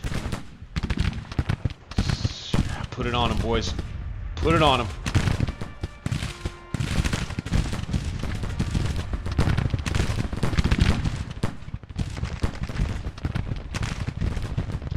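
Cannons and artillery in a Civil War battle in the Grand Tactician strategy game boom and crackle in dense, continuous volleys of gunfire, loud and near, while a voice shouts over the barrage.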